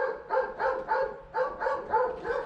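Plott hound barking in a steady series of about seven close, loud woofs at an even rhythm, each bark separated by a short pause.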